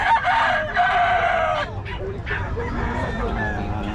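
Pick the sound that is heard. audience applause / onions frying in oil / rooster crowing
rooster crowing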